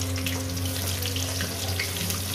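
Chopped onion fries in oil with bay leaf, cumin and whole garam masala for a bhetki fish-bone chorchori. The hot pan gives a loud, dense, continuous hiss close by.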